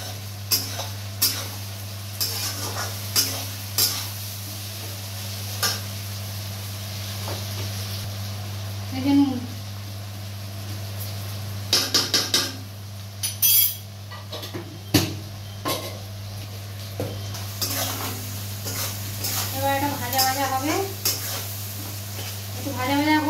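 Whole garam masala frying in a pan, with a low sizzle and frequent clattering spatula stirs and clinks against metal, close by, over a steady background hum.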